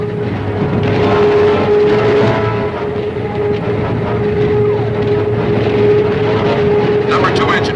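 Engines of a bomber aircraft in a wartime TV drama drone loudly and steadily throughout, a constant roar with a sustained tonal hum, while voices speak over the noise.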